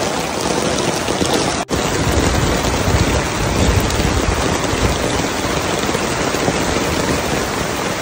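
Heavy rain pours steadily and loudly, a dense unbroken hiss of drops on surfaces with a low rumbling undertone, close and without voices.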